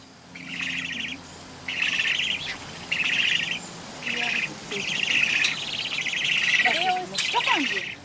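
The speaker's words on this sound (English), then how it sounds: "For me, the ibis is a very special bird." Ibis chicks being hand-reared by foster mothers call in repeated bursts of high, buzzy chirping with short pauses between them. A low voice speaks briefly at the start, and a few squeaky squawks come near the end.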